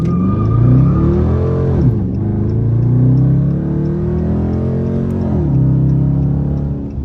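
A Dodge Charger RT launches hard, its engine roaring loud and close as the revs climb, drop briefly at a gear change, then climb again before another shift, with no voices over it.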